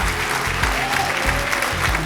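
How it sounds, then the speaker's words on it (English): Steady, full applause from a gala audience at a community recognition dinner, loud and continuous with no break, filling the room throughout. "so one last round of applause"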